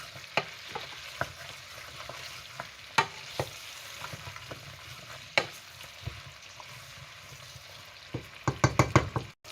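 Onions, garlic and leek sweat in a pan over lowered heat for a home-style Córdoba oxtail in red wine sauce, giving a steady soft sizzle with frequent stirring clicks and knocks, which grow busier toward the end.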